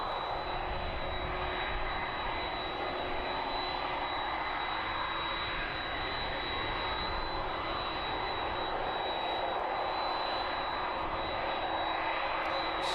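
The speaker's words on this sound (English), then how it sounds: "Start with a 767 then. This one will be the last departure on this evening's stream." Steady, continuous roar of a Boeing 767-300 converted freighter jet taxiing at East Midlands Airport in the evening, a loud broadband engine rumble with a thin high whine running throughout, heard alone without talk.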